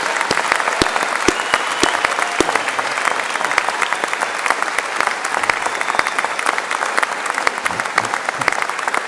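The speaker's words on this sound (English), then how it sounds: "Can we all give Kevin a huge round of applause?" A graduation ceremony audience gives a big round of applause for a student, loud and sustained clapping from a large crowd with sharp individual claps standing out near the front.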